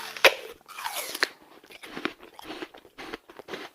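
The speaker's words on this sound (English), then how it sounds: "It sounded to me like someone biting into a big red apple" A crisp bite into a big red apple cracks out loudly up close, followed by several seconds of wet crunching and chewing, with no talk.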